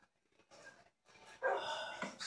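Minecraft wolves (tamed dogs) in a video game bark and yip in short bursts, a few close, bright calls after a quiet start, with no voices.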